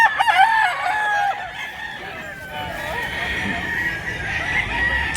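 A rooster crows loudly and close by in a long, drawn-out call, followed by softer clucking and faint background voices.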